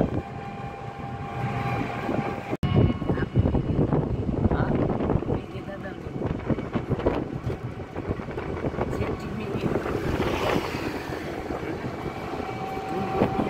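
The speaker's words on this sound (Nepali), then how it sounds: "यहाँ त हावा आउँछ सर।" Wind rushes loudly and continuously past riders in an open tempo, with a rumbling vehicle roar underneath and brief voices mixed in.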